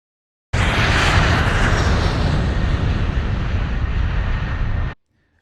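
A float plane in Alaska roars steadily and loudly overhead for about four seconds, its engine drone constant and close before cutting off abruptly, with no voices.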